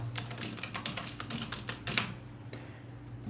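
Typing on a computer keyboard while working in Illustrator: a close, quiet run of rapid key taps in an uneven rhythm, with one slightly louder press near the middle and no voice.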